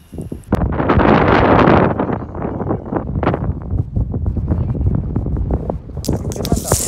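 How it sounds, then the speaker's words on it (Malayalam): Strong wind at a foggy hilltop viewpoint buffets the microphone with a loud, continuous roar that surges briefly and then stays steady and close. "നല്ല കാറ്റുണ്ട്."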